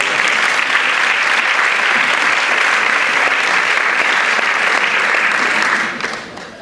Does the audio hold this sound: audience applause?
yes